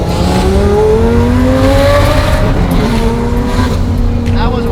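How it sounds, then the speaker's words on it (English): A twin-turbo Lamborghini Gallardo makes a full-throttle pull, its loud, close engine note climbing steadily in pitch and then dropping at an ignition-cut shift before climbing again. "That was a wide open throttle pull with me staying in the throttle and letting the ignition cut disengage the load"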